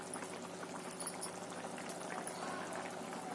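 Chana dal simmering in a pot, a quiet, steady bubbling and gurgling of boiling liquid heard close and alone.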